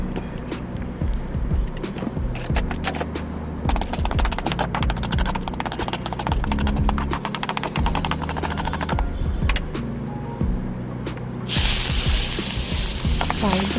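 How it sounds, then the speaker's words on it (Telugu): Curry leaves and asafoetida fry in hot oil in a pan for tempering, a steady close sizzle with crackling pops and occasional stirring scrapes throughout, with no voices. "కాసేపు ఇలా కలుపుకోవాలి, బాగా దూరంగా వేయించుకోవాలండి తాలింపుని."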